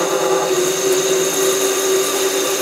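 SC2 mini lathe running while parting off, a loud continuous motor whine with a steady tonal hum and constant grinding of the cutting tool fed aggressively into the workpiece.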